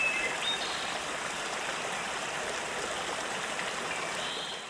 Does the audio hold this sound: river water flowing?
yes